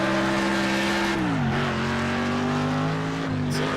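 Race car engine in Next Car Game holding a steady, loud drone, its pitch dropping sharply as the automatic gearbox lifts into the next gear, then climbing again with a second brief dip near the end.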